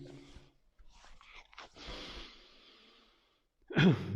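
A person breathes deeply during a yoga forward fold, with slow audible inhales and a long, airy exhale in a quiet room, then a brief louder vocal sound at the end.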